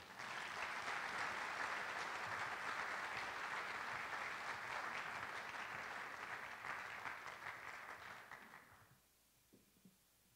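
Sustained audience applause welcoming Dr. John McCardell to a morning lecture at the Lovett School, a dense steady clapping from a full room that holds for about eight seconds before thinning out and fading to quiet.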